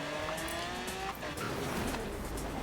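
Engine roar and tire squeal from a red Ferrari racing in Forza Horizon 3, a steady loud drone with shifting pitch and skidding, no voices.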